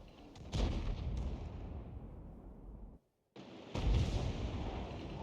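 Tank cannon fire in the World of Tanks video game, a loud booming shot at the start with a long rumbling tail, a brief silent gap, then a second heavy blast that rumbles on to the end.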